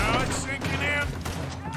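A heavy gunshot rings out in Red Dead Redemption 2, a loud booming blast from a powerful gun with a rumbling tail, while someone talks over it.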